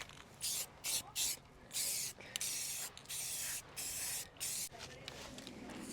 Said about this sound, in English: Someone take the spray can away from me.